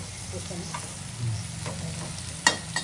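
Okra, chillies and carrot sizzle and crackle in a pan as they are stirred, a steady close frying hiss with a couple of sharp spatula clinks near the end.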